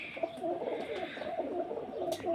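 A pigeon coos softly in a repeating, throaty rhythm nearby, several low murmuring calls in a row.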